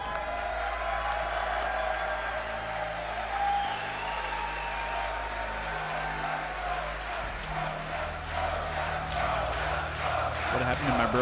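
A lovely crowd cheers and applauds at a Red Bull Kumite fighting game tournament watch party, a steady roar of clapping and whooping that holds for the whole stretch, mixed with tonal music and swelling louder near the end.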